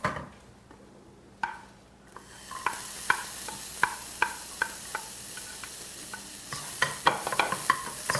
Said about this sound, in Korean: 양파 볶아서 준비를 해 놓으시고요